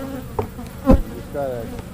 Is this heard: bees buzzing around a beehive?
yes